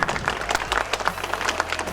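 An audience at a school graduation ceremony claps together, a dense, lively burst of hand clapping with uneven rhythm, close and fairly loud throughout a short span.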